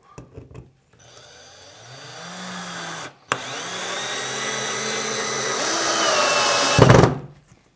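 MINUMX cordless drill driver in first gear driving a black 4x40 mm screw, a steady whirring run of about six seconds that climbs slightly in pitch and load, ending in a brief louder burst as the screw seats, close by with no talk.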